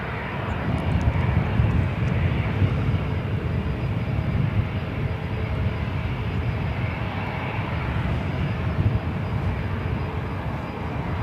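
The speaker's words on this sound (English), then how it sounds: "Looks like the Lufthansa Queen lining up on 25 at left." Lufthansa Boeing 747 airliner lining up on runway 25 left at LAX, its engines a steady loud roaring rumble that holds unbroken throughout, heard from a distance with no talk.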